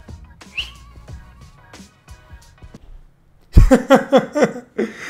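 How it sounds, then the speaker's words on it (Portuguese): Someone whistles a few short, thin notes, then a louder burst of close-up vocal sounds like laughter follows. "Tem que assobiar, né?"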